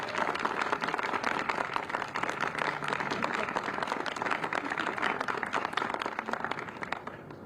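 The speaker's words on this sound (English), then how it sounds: "why don't we just give them all a round of applause right now." A crowd at a Connecticut governor's bill signing ceremony applauds continuously, dense clapping holding steady throughout with a slight fade at the end.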